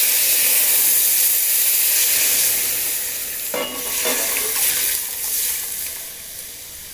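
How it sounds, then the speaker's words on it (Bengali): Dal poured into a hot pan of sizzling cumin, bay leaf and dried chilli tempering: a loud continuous sizzle and hiss with a sharp splash and bubbling when the liquid hits, then the frying settles slightly. "জিরা তেজপাতা শুকনো লঙ্কা আমার ভাজা ভাজা হয়ে গেছে, এবার ডালটা ঢেলে দিই।"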